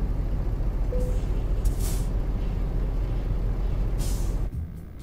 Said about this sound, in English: we'll put the trailer brake on